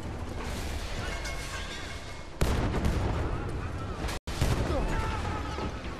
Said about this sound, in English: I actually did shoot a bullet.